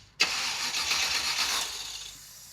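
Engine on the Mazdarati project car, a Roadkill build fed by carburetors, cranks and catches with a sharp start, then runs loud and rough close by for about two seconds before fading as it begins to die.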